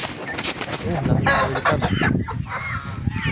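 A flock of breeder chickens, Decal Brown crossed with Rhode Island, clucks and squawks loudly and continuously close by, with occasional wing flapping and some talking mixed in.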